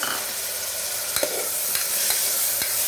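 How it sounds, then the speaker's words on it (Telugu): Chopped small tomatoes frying in a chicken curry masala with green chillies, a steady loud sizzle with several sharp spoon taps and stirs against the pan. "ఇప్పుడు టమాటోస్ వేసుకుంటున్నాను"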